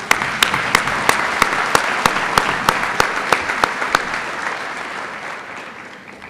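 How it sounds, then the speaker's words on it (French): An audience applauds a guest of honour at a 2010 commencement ceremony, steady clapping with sharp individual claps standing out over the crowd, gradually thinning and fading toward the end. "Nous l'applaudissons."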